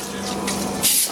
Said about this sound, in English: I'll still spray that with a little cooking oil so that it doesn't stick.